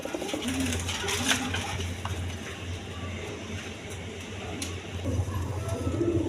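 Pigeons coo in a loft, low rolling calls repeating close by over a steady background hum, with occasional faint clicks and rustles.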